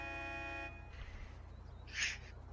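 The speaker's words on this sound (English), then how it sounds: "Stop honking your horn" A car horn blares in a steady tone for under a second during a police traffic stop, then stops, leaving low engine and road hum with a brief faint chirp; no one speaks.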